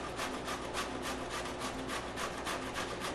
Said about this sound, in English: I'm going to grate up my zucchini.